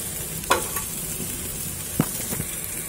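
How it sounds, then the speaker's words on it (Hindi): Potato fries frying gently in oil on low heat, a soft steady sizzle with a couple of brief stirring scrapes and clicks, close and fairly quiet. "उसे 5 मिनट ऐसे ही फ्राई करेंगे धीमी आंच से"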